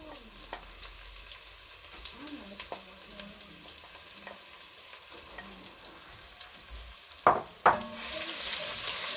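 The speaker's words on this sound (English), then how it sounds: "I'm gonna put my garlic and ginger inside now" Garlic and ginger sizzle and fry in hot oil in a pan, a steady crackling hiss with stirring clatters, and a louder burst of sizzling near the end.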